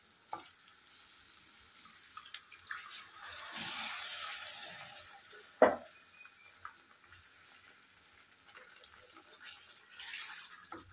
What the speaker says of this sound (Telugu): సాల్ట్ అన్నీ వేసుకున్నాం కదా, ఇప్పుడు వాటర్ వేసుకోవాలి.